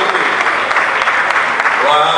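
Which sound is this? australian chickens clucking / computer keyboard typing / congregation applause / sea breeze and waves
congregation applause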